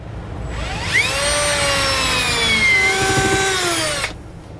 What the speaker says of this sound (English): I'm going to start out with a rather small drill bit, kind of get me a pilot hole going